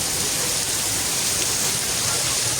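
Heavy rain pouring steadily outdoors, a dense, even hiss that fills the whole clip without a break and with no voices over it.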